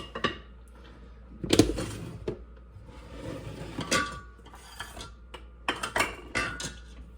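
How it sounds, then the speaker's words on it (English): Glass bottles clinking and rattling as homemade ginger beer is poured in, a few sharp clinks between softer handling knocks, close by with no talking. "now I'm ready to fill my bottles"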